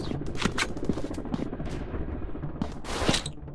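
Rapid gunfire bursts crackle through a counter-terrorist first-person shooter game, with repeated sharp shots over a busy, continuous battle background.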